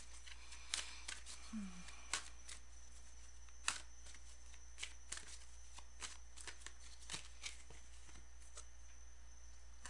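Cards are shuffled and drawn by hand in a quiet room during a Latvian card reading, with sharp riffles and soft snaps scattered irregularly over a steady low hum, without talk.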